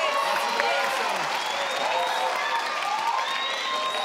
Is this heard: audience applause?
yes